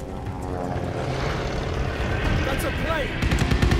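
A propeller plane passes overhead in the Call of Duty: Vanguard battle at Tobruk, a rising engine drone that swells louder toward the end, mixed with game noise and spoken voices.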